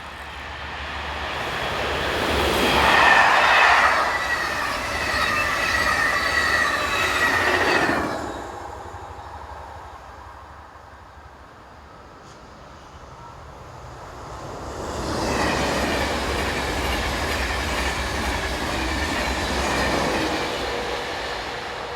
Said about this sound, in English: 186183 heads north, powering the 1645 from Brussels to Amsterdam.